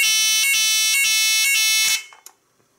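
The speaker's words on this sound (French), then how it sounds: "il s'est déclenché comme si c'était l'alarme incendie" A Neutronic type 4 alarm blares with a loud, harsh electronic tone that pulses in regular bursts roughly every half second, then cuts off abruptly, leaving a few faint clicks and near silence.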